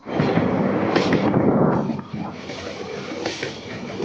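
A passenger train pulls out of Hosapete station with a loud, steady rumble that eases to a softer rolling clatter, heard from on board among faint background activity.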